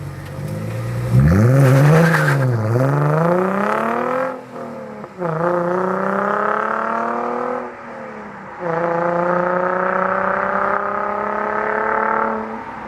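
A Chrysler Crossfire SRT's Mercedes-Benz M112 V6, rated at 330 horsepower, revs loudly in three bursts: a sharp climb and fall, then two longer sustained high revs separated by brief dips.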